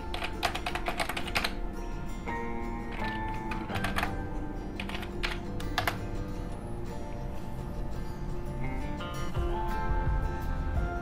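Continuous typing on a computer keyboard while logging in to a hotel booking website, steady rapid key clicks with occasional heavier thunks, close and fairly loud, with no talking.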